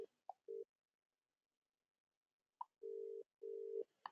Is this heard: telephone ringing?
yes